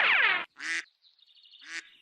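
A cartoon duck quacking, a few loud, raspy quacks with short gaps between them, close and clear with no talking.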